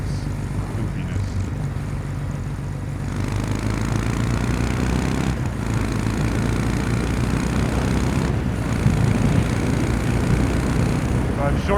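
Kawasaki W800 motorcycle engine heard while riding, short-shifting through the gears: a steady, continuous engine drone with wind rush and small surges and dips in tone throughout.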